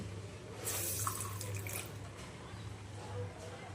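Water poured from a tap or vessel onto a mustard seed and green chilli spice mix, a brief splashing rush lasting about a second, then quieter trickling, with a low steady hum throughout.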